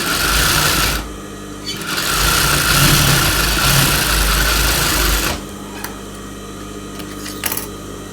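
A sewing machine runs steadily, stitching the top strip of a blouse lining with a close, even mechanical whir. It stops briefly near the start and again about two-thirds of the way through, then continues more quietly.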